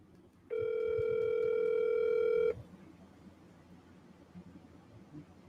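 On an outgoing phone call, one long electronic ring tone lasts about two seconds, clear and steady, then cuts off to low background noise with no talking.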